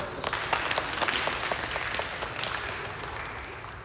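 A roomful of people at a baby dedication ceremony break into a warm burst of clapping, dense and steady before fading slightly toward the end.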